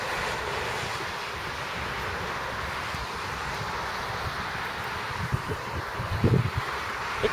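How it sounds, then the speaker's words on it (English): Steady outdoor wind blowing across a microphone at an army aviation museum, a broad constant rush with a few low gusty buffets near the end. "That's the wind."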